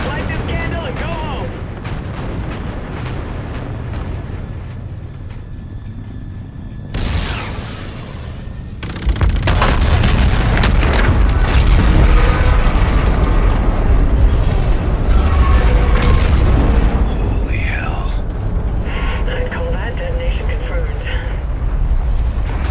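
Tower detonation explosions in the video game Call of Duty Infinite Warfare: a quieter stretch gives way to sudden heavy blasts, then a long, loud roar of rumbling explosions and crackling gunfire.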